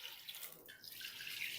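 Water, about two and a half mugs, poured steadily into a pot of beef karahi with a soft continuous hiss and splash, faint and close.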